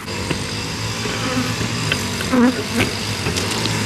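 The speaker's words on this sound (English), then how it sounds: "This is a lot of bees." A dense, steady buzz of many bees close by at a hive, with individual insects droning past now and then.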